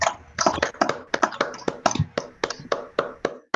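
Applause after a seminar talk: about a dozen distinct hand claps in a steady, fairly quick rhythm, close and moderately loud, from a small audience, with no talk over them.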